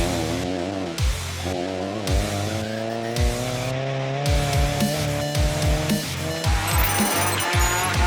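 A newly built Honda Civic rally car in Class 9 powers along a forest stage at an Irish rally, its engine revving hard through rapid gear changes and rising pitch, loud and close throughout.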